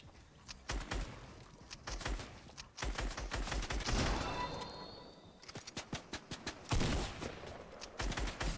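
Rapid bursts of gunfire in the video game Fortnite, with dense volleys of shots, brief pauses and renewed firing at a steady, fairly loud level throughout.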